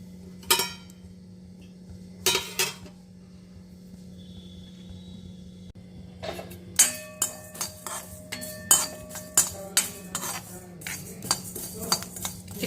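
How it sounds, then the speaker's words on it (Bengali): Panch phoron spices dry roasting in a pan, heard as quiet crackling with a low steady hum beneath, then a run of clinking spoon strikes and scrapes against the metal pan. "আমি পাঁচফোড়নটা এখানে ড্রাই রোস্ট করে নিচ্ছি"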